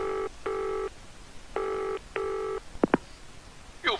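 A telephone in a video game is dialed, giving a run of clean electronic keypad tones of varying length, then two short clicks and a brief warble at the end.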